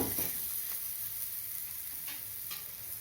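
Ragi adai with drumstick leaves cooking on a hot pan, giving a soft, continuous sizzle and hiss with a few faint ticks, steady and close throughout, with no talking.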